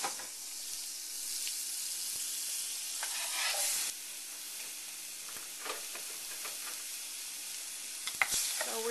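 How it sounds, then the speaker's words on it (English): Chopped onions fry in melted butter in a pan over medium-high heat, a steady close hiss with occasional stirring scrapes and sharper crackles near the end. "So we're just going to go ahead and cook this until your onions are nice and cooked"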